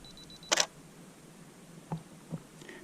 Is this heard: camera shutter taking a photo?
yes